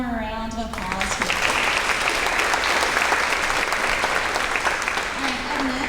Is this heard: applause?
yes